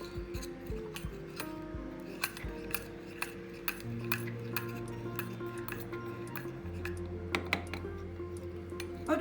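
A spoon mixing a quarter teaspoon of turmeric in a bowl as a home remedy, giving repeated light clinks and scrapes against the bowl in an uneven rhythm, close and fairly quiet over a low background hum.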